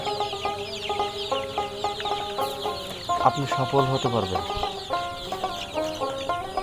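Fayoumi chickens at a poultry farm cluck repeatedly and overlap, forming a busy, fairly close chorus beneath a voice.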